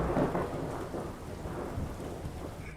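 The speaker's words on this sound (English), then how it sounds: "And now, as you guys can see, it is pouring rain. And there's still lightning going on outside." Heavy pouring rain during a thunderstorm at Badlands National Park, a steady dense wash of rainfall with low rumbling thunder underneath, continuous and fairly faint with no voices.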